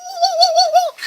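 A man imitates a mule with his mouth, producing a single wavering, bray-like vocal tone about one second long that rises and falls in a quick warble, loud and close with no other sounds.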